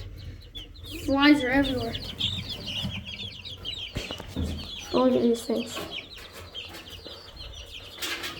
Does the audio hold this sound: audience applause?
no